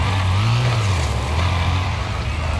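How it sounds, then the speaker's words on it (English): Lawnmower engine straining up a hill in the racing game Wreckfest, a steady low drone with a slight rise in pitch near the start, loud and continuous throughout with no talking. "Getting this mower to go up the damn hill."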